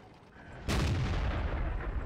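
Single heavy tank cannon shot in a tank video game, a sudden deep boom after quiet that lingers as a loud rumbling tail.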